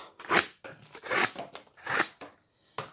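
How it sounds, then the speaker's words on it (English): A Gerber Asada knife slicing through food in three firm crunching strokes, each swelling and fading, followed by a short final cut; close and fairly quiet, with no talking. "let's cut one more slice"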